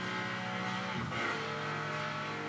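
Car engine held at full throttle in the online racing game Paradise City, a sustained droning roar with a brief dip in pitch around the middle, steady and close.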